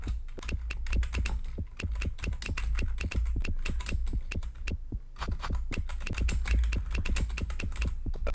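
Rapid keystrokes on a computer keyboard as someone types an answer, dense irregular clicking bursts with a brief pause midway, close and clear with no talking.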